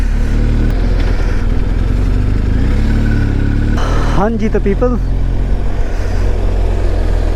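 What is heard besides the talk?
heavy road traffic in Champawat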